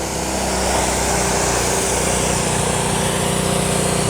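A pressure washer rinses snow foam off a car with a loud, steady motor drone and an unbroken rushing spray.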